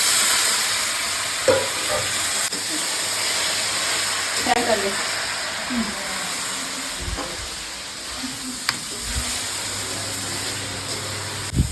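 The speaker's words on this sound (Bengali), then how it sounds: "আর এখানে ভাজা হবে এবার চালটা" Rice frying in ghee for pulao gives a steady sizzle and hiss with occasional scraping stirs and clinks of a spoon against the pan, close and continuous.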